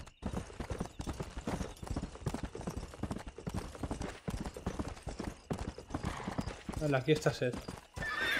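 Clip-clop of horse hooves in Red Dead Redemption with a whinny near the end, heard under steady talk from a player and game characters throughout.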